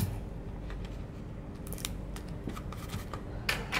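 Scissors snipping through material during a summertime craft project, several close, crisp cuts in quick succession at low volume, with no talking.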